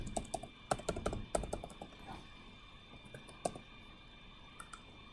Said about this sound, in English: So type in your password.